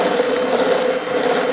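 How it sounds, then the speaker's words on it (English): A power drill removing a sharp burr from the back side of a part for a 3D printer enclosure runs as a loud, steady, continuous whir with no pauses, close up. "take your drill"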